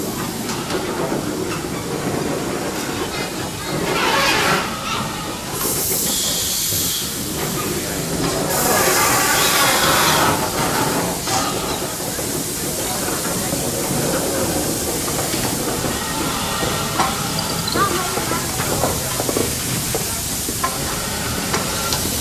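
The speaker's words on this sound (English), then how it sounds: "our locomotive and its support wagon emerged from the shed" A steam locomotive on a Burmese railway hisses loudly and steadily with escaping steam, with rumbling and clanking of rail wagons, surging in bursts over continuous background noise.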